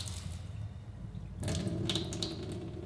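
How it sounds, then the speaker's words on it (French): Water runs from an open household tap left on while waiting for hot water: a soft, steady hiss that becomes fuller and splashier about halfway through, with no talking. "C'est ceux où ils ouvrent le robinet, ils attendent que l'eau chaude elle arrive."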